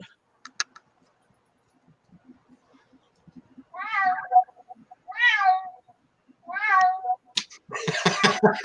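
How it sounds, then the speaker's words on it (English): A smart speaker plays a synthetic cat meow: three rising, tonal meows in a row, clear and fairly close in a quiet room, followed by a burst of louder broadband noise at the end. "Alexa, meow like a cat."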